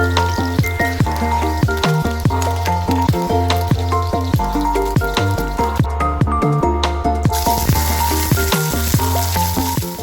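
Ginger garlic paste sizzles in hot oil for fried rice, a loud, steady frying crackle with frequent sharp pops and spits running throughout, close up and alone.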